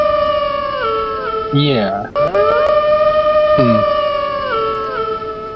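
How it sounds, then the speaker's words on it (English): Several canines howl together in long, wavering tones that rise, fall and overlap for several seconds. The loud chorus is punctuated by a brief sharper yelp and a short spoken word. "So that is some kind of canine howling."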